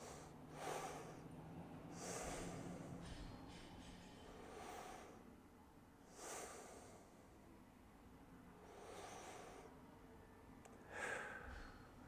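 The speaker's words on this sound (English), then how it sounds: "I can just pause and take a couple breaths in my belly." Slow, deep belly breaths during a low-back and core activation exercise flow, roughly five audible, airy inhales and exhales spaced evenly, quiet and close with nothing else around them.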